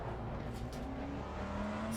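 A race car engine in Assetto Corsa Competizione drones steadily, a sustained loud roar with a slowly rising pitch that holds without pause.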